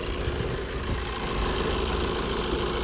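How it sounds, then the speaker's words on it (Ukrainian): The engine of a 2013 Honda CR-V idles steadily, a continuous even rumble close to the microphone with no voices over it. "двигун працює рівненько"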